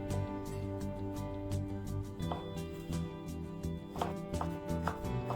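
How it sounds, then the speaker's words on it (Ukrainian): Repeated knife cuts through fatty smoked pork brisket on a cutting board, a steady series of soft chopping strokes with a low continuous hum in the background. "Я беру лише копчену грудинку з досить великою кількістю жиру і нарізаю ось так."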